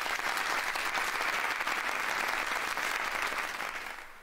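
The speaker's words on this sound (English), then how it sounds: "We'll then add an applause." Applause sound effect triggered in a livestream donation overlay: a dense crowd-style clapping burst, steady and loud, fading out toward the end with no talk over it.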